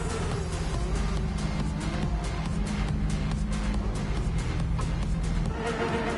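A Porsche race car engine drones steadily in the background of a GT7 session, a continuous mechanical roar with pulsing revs and no talk over it.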